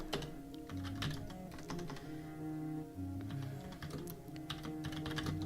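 Steady typing on a computer keyboard, a dense run of close, crisp key clicks that continues through the whole stretch with no talking.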